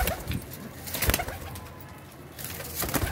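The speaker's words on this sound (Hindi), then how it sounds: "ऐसे नायाब कबूतर हैं" Pigeons from a breeder's loft coo in a soft, repeated murmur, with several overlapping calls close by against quiet room ambience.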